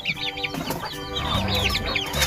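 Newborn chicks kept with a foster hen fill the air with continuous high, wavering peeps, joined by the hen's low clucks, close and steady throughout with no talking.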